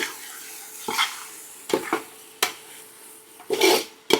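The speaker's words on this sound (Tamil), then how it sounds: "இந்த மாதிரி வாட்டமா கிண்டுறதுக்கு கடாய் பத்தல गाइस, அதனால தான் இவ்வளவு பெரிய குண்டால கிண்டுறேன்" Spoon stirring chicken gravy in a large pot, a few distinct scraping and clattering strokes at irregular intervals with quiet pauses between, close and moderately loud.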